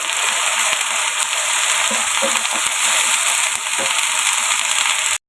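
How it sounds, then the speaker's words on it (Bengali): Ginger garlic paste sizzles and fries steadily in a pan, a dense continuous crackle near and loud, with a few faint stirring knocks and no talk. "এখন আদা রসুন পেস্টটা আমি ভালো করে একটু ভেজে নিব কষিয়ে নিব"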